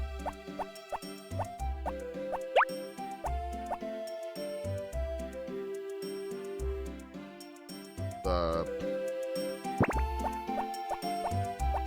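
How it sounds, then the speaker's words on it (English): Watering crops with a watering can in Harvest Moon: Back to Nature brings repeated soft plopping water sounds. They fall in a steady rhythm over looping, chiming game music, with no talk. "So I'll go through and water all my plants."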